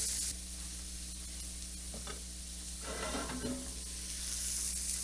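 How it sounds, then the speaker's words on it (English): Rice toasting in hot oil with onions and carrots in a pot, giving a soft, steady sizzle with a few brief scraping stirs partway through, fairly faint and without talking. "We had oil in here with our onions and our carrots, so we're just going to toast that up for just about a minute."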